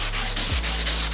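Rhythmic back-and-forth block-sanding strokes rasp across body putty on a car door, about four even passes, close and clear with no talking.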